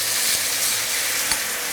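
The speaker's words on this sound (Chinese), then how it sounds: "我们让这个豆腐差不多都煎成这种金黄色之后呢，下入这个调好的汁儿给它倒进去" Tofu pan-fried to golden in a home kitchen sizzles steadily as a prepared sauce is poured in, a dense close crackle with a brief louder splash partway through.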